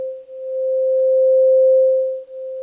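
A pure sine tone from an STS Sine VCO module in VCV Rack holds one steady pitch, its loudness swelling and fading smoothly as phases shift, clean and loud with nothing else present.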